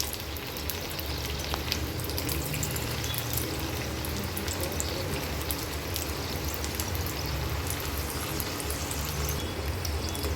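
Round samosas frying in hot oil, a steady dense crackling sizzle with fine popping bubbles, constant and close throughout with no voices.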